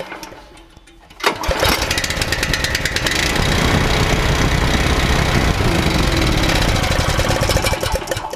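A small pump engine starts abruptly and then runs flat out at 3400 RPM, a loud, close, steady buzzing drone with rapid knocking pulses that continue without a break.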